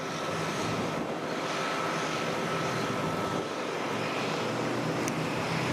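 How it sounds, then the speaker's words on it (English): A JetBlue Airbus A320 airliner on the runway at Sint Maarten, its engines giving a steady, broad roar that holds at moderate distance throughout, with wind noise on the microphone and no speech. "So this is waiting for that JetBlue A320."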